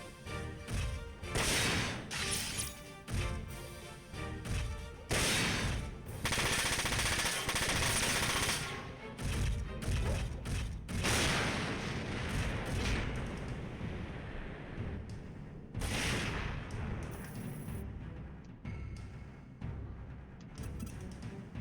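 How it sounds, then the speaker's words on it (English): Sustained gunfire and explosive blasts from mech combat in the video game Front Mission 4, loud and dense bursts repeating almost continuously with crashing impacts, no talk over it. "Let me just shoot this dude."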